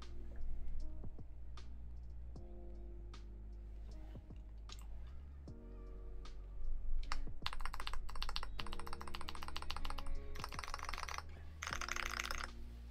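Typing on a clicky mechanical keyboard with Box White switches, sharp close-up clicks in bursts, sparse and hesitant at first, then fast continuous runs of keystrokes with no talking.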